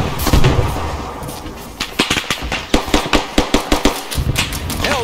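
Frag grenades and gunfire in an ArmA 3 firefight under artillery fire, with a loud blast at the start, then a quick, close run of sharp cracks and thumps in a rhythmic string.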